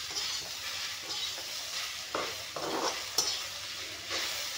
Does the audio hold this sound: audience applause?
no